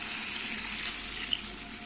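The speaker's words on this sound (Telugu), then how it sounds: "ఇప్పుడు వాటర్ పోస్తున్నాం" Water pours steadily into a pot of simmering curry of brinjal, tomato, drumstick and dried fish, a soft continuous gush heard alone at low level.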